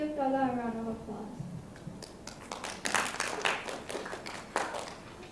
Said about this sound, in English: Please give Dalla a round of applause.